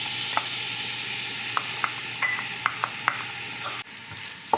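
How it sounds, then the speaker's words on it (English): Chopped onion frying in a pan for a pasta sauce gives off a steady, close sizzling hiss, punctuated by several sharp clicks and taps as it gets stirred. "we can go ahead and add our chopped onion"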